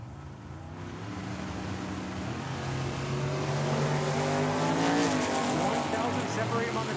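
Drag racing at Tucson Dragway with a 1963 Chevy Nova and a Mopar: loud, close engines rev and roar, pitch climbing as the cars launch and pull away, with an announcer talking over them.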